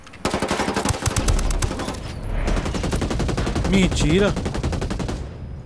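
Rapid bursts of automatic gunfire in the video game Ghost War rattle close and loud, with a brief spoken word near the start and a short whistling tone in the middle.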